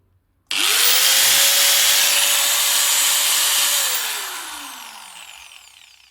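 A Makita GA 5030 angle grinder, freshly fitted with a new rotor, spins up abruptly to a loud steady whine with no load, holds for a few seconds, then winds down smoothly as it coasts to a stop.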